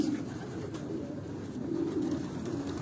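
A racing pigeon in a loft coos in a low, steady murmur that runs through the whole stretch, with soft rustling around it and no talking.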